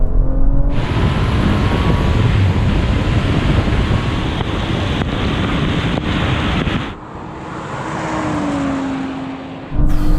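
An Audi RS5 and a BMW i4 M50 accelerating side by side in a rolling drag race, a loud sustained roar of engine and wind noise that drops off abruptly near the end, no speech.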